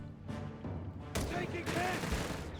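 Machine gun and artillery fire from the strategy game Company of Heroes 3 breaks in with a sudden loud burst partway through, then rumbles on beneath a commentator's continuous talk.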